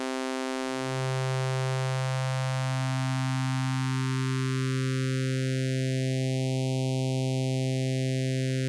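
A steady buzzy 90s house organ tone with a whistly notch filter sweeping slowly upward through it, then drifting back down, continuous and fairly loud with no voices.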